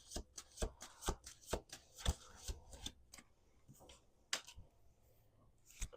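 A deck of tarot cards is shuffled and handled close by, giving a run of sharp riffling snaps and flicks, busy at first and then sparser, with no one speaking.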